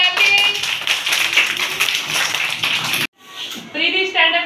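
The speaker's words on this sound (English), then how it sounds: "Do clapping." Kindergarten-age children clap as a class in a school room, a lively continuous patter lasting about three seconds, followed by a short silence and then children's voices.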